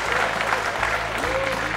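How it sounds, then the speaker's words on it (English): An audience at a 2006 World Pool Championship nine-ball match applauds with even, sustained clapping, with a commentator's voice running underneath. "I imagine the audience is going to give him a good round of applause here."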